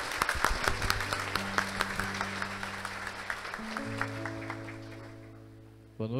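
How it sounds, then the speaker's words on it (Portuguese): Applause at a church feast for Saint Rita of Cascia, greeting a priest: scattered claps that fade as tonal music plays beneath, ending in a brief louder burst, with no talk over it. "então vamos acolhê-lo com a salva de palmas"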